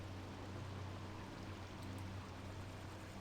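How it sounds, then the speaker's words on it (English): A waterfall in the Baldur's Gate II video game, a steady rushing wash of falling water that continues evenly and quietly throughout with no breaks. "Water flows in a rush from some unknown source."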